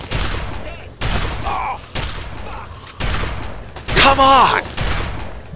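Gunfire bursts from the video game Fallout 3 after a tripwire is triggered, loud repeated shots and booms in clusters across the clip, with someone talking excitedly over them.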